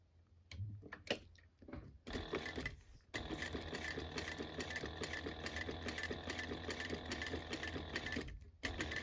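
A sewing machine runs in short bursts, then stitches steadily in a long even whir as it stitches forward and back through fabric for a wallet, stopping near the end, close and clear with no talking.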